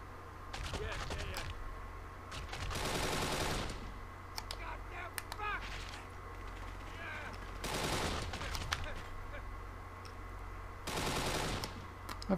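Bursts of machine gun fire ring out in the video game Kane and Lynch 2: Dog Days, coming in several separate loud rattling volleys between quieter stretches of game sound.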